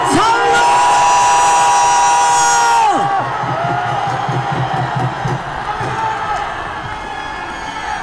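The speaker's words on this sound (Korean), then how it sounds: "함성 한번 질러주십시오." A large outdoor crowd at a political rally in a station plaza in Daegu cheers, yells and whoops loudly, a dense sustained roar that swells and slowly eases, with shouted voices rising over it.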